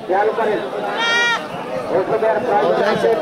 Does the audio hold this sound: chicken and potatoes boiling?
no